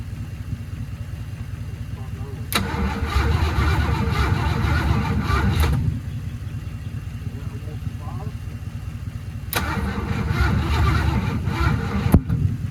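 A 1982 Mercury Capri 5.0 V8, long left sitting in a junkyard, cranks over in two close, loud bursts of about three seconds each, separated by a pause, over a steady low rumble that continues throughout.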